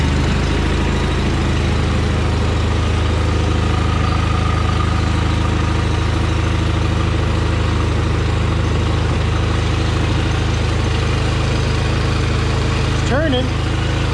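A John Deere 318 lawn tractor runs at a steady idle-like drone with the PTO engaged, the engine loud and close throughout, with a brief clunk near the end.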